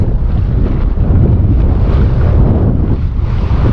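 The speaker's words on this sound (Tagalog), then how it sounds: "Oh, hinahangin talaga." Strong wind at the seashore buffets the microphone in a loud, continuous roar with rumbling gusts, drowning out any other detail.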